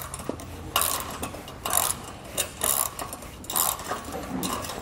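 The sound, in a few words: ratchet tightening a nut on trailer bolt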